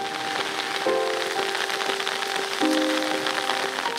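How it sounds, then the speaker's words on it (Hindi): Steady rain falls across northern Khyber Pakhtunkhwa hill areas, a continuous dense hiss of drops on surfaces with faint tonal hum running underneath throughout. "खैबर पख्तूनख्वा में बरसात जारी है।"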